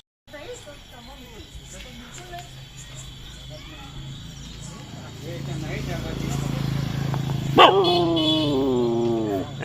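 A dog barks and yips close by, short sharp calls rising near the end, while people talk over steady background noise.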